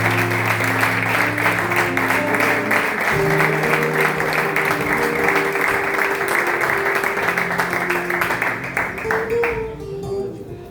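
A church congregation applauds in a sustained, dense wave of clapping over music, fading toward the end.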